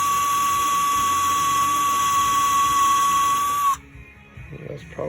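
A drill bores holes in a 2018 Ford Mustang GT while the grille and rear deck lid are being replaced. Its loud, steady, high whine runs close for several seconds, then cuts off abruptly, leaving quiet shuffling and handling sounds.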